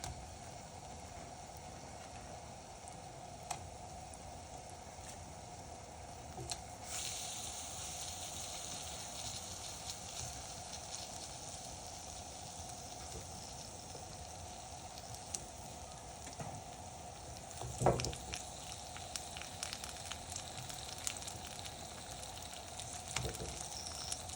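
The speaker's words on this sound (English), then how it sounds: "I'm gonna pan fry them and then I'm gonna stick them in the oven" Chicken pieces pan-fry in a skillet for barbecue chicken sandwiches, giving a steady, close hiss and sizzle with occasional soft pops and stirring scrapes. The sound holds at an even level throughout, with no voices.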